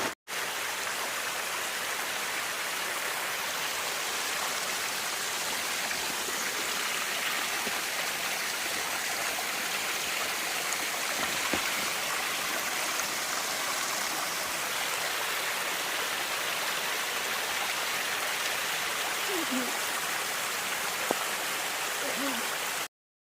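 Waterfall on the Appalachian Trail on a cold, rainy day, a dense steady roar of rushing water filling the whole stretch, close and unbroken, with a few faint knocks and scrapes.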